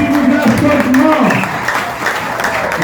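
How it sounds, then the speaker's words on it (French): Applause from a school-contest audience at a grand final, a broad wash of clapping mixed with a voice speaking over it at the start, loud and close throughout. "Applaudissez Madame Edna, s'il vous plaît"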